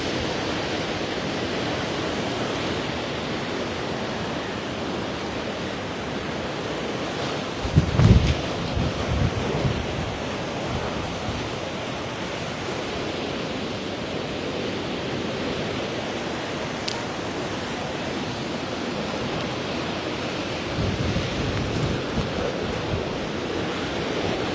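Strong wind roars across an open coastal area in Santa Ana, Cagayan, in a continuous, loud broadband rush with a heavy gust thump midway.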